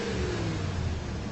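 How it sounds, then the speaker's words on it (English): A pickup truck engine revs at the Texas City refinery, a loud, steady, mid-pitched roar that holds for over a second with no talking. "They realized the escaping liquid could explain the mystery of the revving engine."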